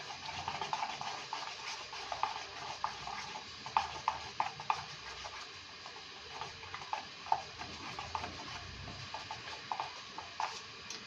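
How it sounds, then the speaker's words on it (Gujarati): A spoon stirring methi dhokli batter in a bowl gives soft, repeated wet scraping and light taps at an irregular rhythm, close but quiet, with no voices. "ખીરાને એકદમ થોડું થોડું ચલાવતા રહેવાનું"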